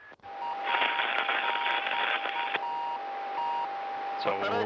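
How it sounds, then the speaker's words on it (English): Intermittent beeping from the recovery beacon of a Soyuz spacecraft descending under its main parachute, a steady tone repeating through a burst of radio static and crew communications. "while we're getting communications from the crew, you also hear the intermittent beeping sound."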